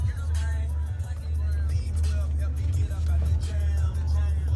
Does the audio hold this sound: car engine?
yes